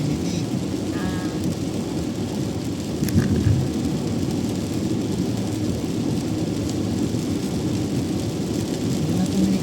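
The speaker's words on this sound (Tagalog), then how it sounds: "Hindi na tumigil ulan." Heavy rain on an expressway, a constant dense wash of rain and road noise with a brief rumbling burst partway through, heard from inside a vehicle.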